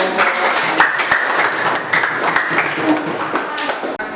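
Applause from an audience for a group that has just finished presenting in a classroom, steady dense clapping for several seconds at moderate loudness, with a few louder individual claps.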